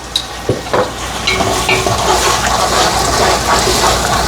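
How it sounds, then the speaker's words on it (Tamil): Turmeric and chilli powder sautéing in oil in a pan for shrimp biryani, a continuous close sizzle with scraping and stirring clatters from a spoon, loud and steady. "அதையும் சாடியாக வதக்க போகிறேன். மஞ்சள் வாசம் போகிறதுக்காண்டி வதக்கி விட போகிறேன்."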